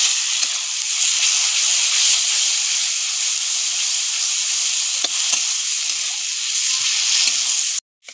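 Spice paste of onion, cumin and chilli fries in oil for an egg and potato korma, giving a loud continuous close sizzle and hiss with faint stirring scrapes, cutting off abruptly at the end.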